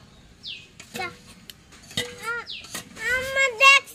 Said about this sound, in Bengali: আবার ঢাকনাটা সরিয়ে নিলাম।